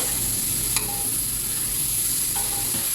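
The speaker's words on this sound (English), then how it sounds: "it's time to add chopped tomatoes in this. Mix it all well together." Chopped tomatoes being stirred into vegetable tehri in a pan over a low flame, a steady loud sizzle with a couple of brief metallic clinks from the spoon, and no voices.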